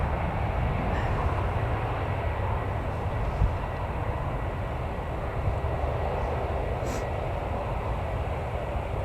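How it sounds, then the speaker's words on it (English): EasyJet airliner at Newcastle Airport, a steady broad engine roar heard from a distance throughout, constant and fairly loud. "that'll be starting its taxi in just a second"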